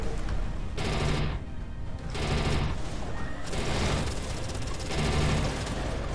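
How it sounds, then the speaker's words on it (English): A spaceship autocannon in the video game Everspace 2 fires in sustained rapid bursts, loud and close, with brief gaps between volleys. A steady low rumble runs underneath. "Now we need to take out these guys. Swap over to our autocannon."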